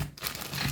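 Thin plastic wrapping crinkles up close as a Valeton GP-50 guitar multi-effects pedal is unpacked from its box, a short dry rustle with a few crisp crackles and no talk.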